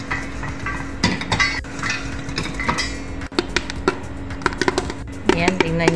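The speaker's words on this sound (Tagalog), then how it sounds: "naririnig nyo ang tunog ng ating kaldero" Popcorn popping in a covered cooking pot over low heat: sharp, irregular pops and metallic clinks ring out against a steady background hum, getting busier toward the end.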